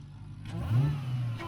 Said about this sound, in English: We gotta see how the blower whine compares to the LSAs.